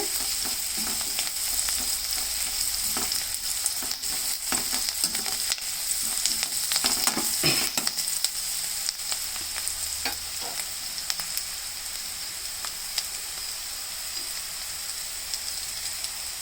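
Onions, with cabbage, frying golden in a pan, a continuous close sizzle with repeated stirring scrapes that are busier early on and calmer later, and no voices.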